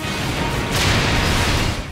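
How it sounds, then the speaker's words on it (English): An explosion in Sonic the Hedgehog (2006): a loud, dense burst of crashing noise that fills the whole clip, intensifying midway and sustaining without pause. "explosion!"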